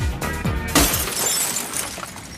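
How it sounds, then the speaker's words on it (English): Window glass shatters in a sudden loud crash, followed by a spray of tinkling shards settling over a couple of seconds. "I broke the window again."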